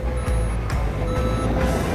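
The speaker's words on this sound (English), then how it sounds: "The D7 just comes down here, takes the dirt that Francisco's digging, and just pushes it right up out of the pond." A Caterpillar D7 bulldozer pushing dirt out of a pond gives a steady, high, repeating reversing beep over its low, loud diesel rumble, with periodic clanks.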